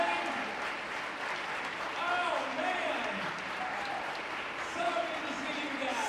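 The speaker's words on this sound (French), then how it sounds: "On les applaudit debout." A seated audience applauds through an opening ceremony, a steady wash of many hands clapping throughout, with a voice speaking faintly over the clapping in places.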